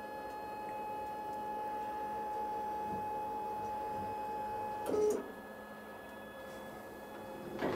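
An Xtreme plasma cutting table running after a cleanup, a steady motorized hum with faint ticking, a brief louder clunk of movement midway and another at the end.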